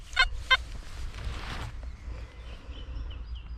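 An XP Deus metal detector gives its target tone over a coin: two quick, high beeps close together at the start, followed by quiet background hiss.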